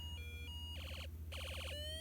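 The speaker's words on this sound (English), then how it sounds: "The siren tone changes" Electronic siren tone from a Snap Circuits Arcade toy kit, steady beeping shifting into rapid rising warble sweeps that repeat in bursts, with a constant low electrical hum underneath; no voices.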